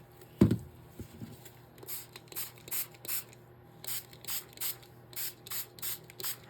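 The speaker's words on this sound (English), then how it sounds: "I'm like spraying everything on my desk" A spray bottle hisses in a dozen or so quick, evenly spaced squirts of water, fairly soft and close, after a single thump at the start.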